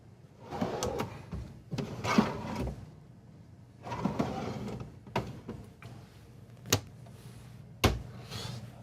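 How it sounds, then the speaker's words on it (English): RV kitchen drawers in a 2023 Newmar Essex 4521 motorhome sliding open and shut, a series of soft rolling glides punctuated by several sharp clicks and thumps, close by with quiet gaps between. "you do have these nice drawers coming out"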